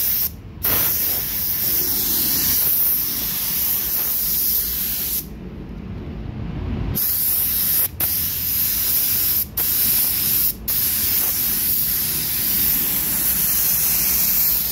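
A cheap Chinese-made spray gun sprays paint onto a car in a long, loud, steady hiss that runs almost continuously, with a gap of a second or two and a few sharp momentary cut-offs as the trigger is released.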